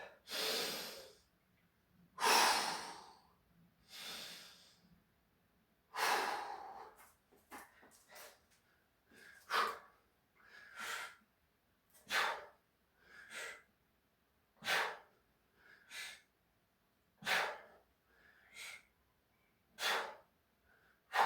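Repeated deep breaths during a training session, sharp inhalations and exhalations in a steady rhythm, close and fairly loud, with no talking.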